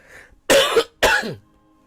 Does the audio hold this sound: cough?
yes